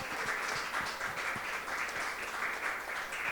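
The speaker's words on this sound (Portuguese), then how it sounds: "Só, uma salva de palmas para a Maíra." Applause at a women's innovation event, an even, steady patter of clapping from an audience, somewhat distant and sustained without a clear rise or fall.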